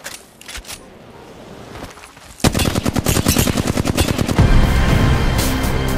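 Apex Legends gunfire is quiet at first, then a loud, rapid stream of automatic shots starts and runs on without stopping.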